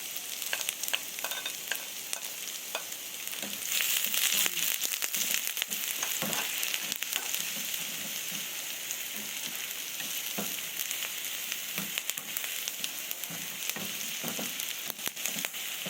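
Minced garlic and red onion fry in a little oil in a pan, a constant close sizzle broken by scraping stirs and soft crackles, with no talking.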